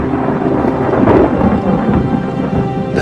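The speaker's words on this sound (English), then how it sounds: "The thunder." Thunder rumbling with rain, a low rolling boom that swells in the middle and fades, loud and close, with no voices.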